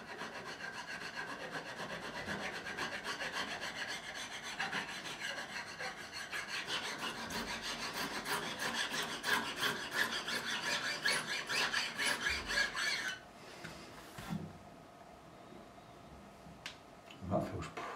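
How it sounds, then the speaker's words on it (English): Smooth file drawn flat across stainless steel guitar frets for levelling, giving a continuous close scraping rasp in steady strokes that stops near the end, followed by a few faint taps. "So we're going to go again. Smooth file."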